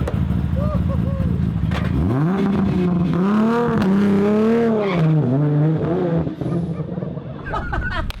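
A loud Nissan R32 GT-R manual street car engine roars and climbs through its gears as it launches hard and races away down a drag strip, close to the listener.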